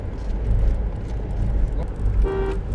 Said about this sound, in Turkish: Kornamız da şöyle.